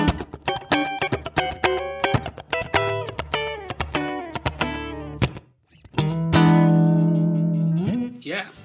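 Electric guitar played through a NUX Trident multi-effects patch with slapback echo and room reverb: quick plucked chords and single notes in a funky rhythm, then a brief pause and a long ringing chord held to the end, fairly loud.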